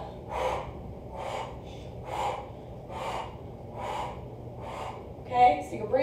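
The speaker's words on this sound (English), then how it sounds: "Okay, so you're breathing, getting that oxygen." Heavy, forceful exhales come in a steady rhythm during an ab twist workout, about six breaths spaced roughly a second apart, close and loud, with a brief voice sound near the end.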